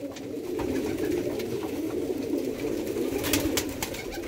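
Tippler pigeons in a loft coo in a continuous low murmuring chorus, several birds overlapping close by, with faint scratching and fluttering, no talk.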